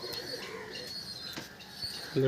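Pakistani teddy pigeons in a loft coo softly and repeatedly, a few faint chirps and rustles mixed in, heard at moderate distance against quiet background noise.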